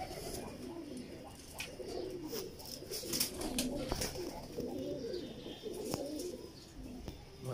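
Pigeons coo softly and faintly in low, rolling murmurs over steady background noise, with a few brief clicks and rustles scattered through.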